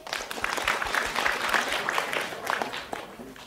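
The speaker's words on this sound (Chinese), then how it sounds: "掌声有请" Audience applause welcomes a contestant onto the stage at a hosting competition final, a steady, dense clapping that fills the hall for a few seconds and then thins slightly toward the end.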